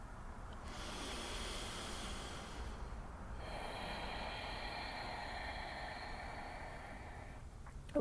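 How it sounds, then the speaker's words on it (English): Slow, steady breathing during a gentle guided yoga flow, close and continuous, with long drawn inhales and exhales as soft airy hiss and no talking. "come back to the sound of my breath breathing along with you"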